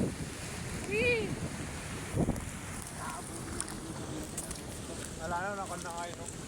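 Typhoon wind buffets the microphone over the constant wash of floodwater around a house, a rough, unbroken roar with people's voices calling out now and then.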